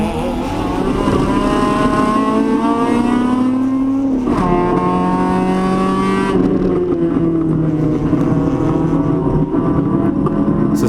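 Scott Montgomery's Honda race car heard from inside the cockpit, its engine droning loud and steady throughout, pitch climbing, dropping sharply with a shift, then climbing and easing again during an endurance race.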